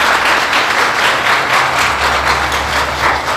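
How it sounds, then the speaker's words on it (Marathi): A church congregation applauds loudly during a worship service, a dense, steady wash of clapping from many hands that carries on throughout. "या त्या प्रभूसाठी जोरात टाळ्या"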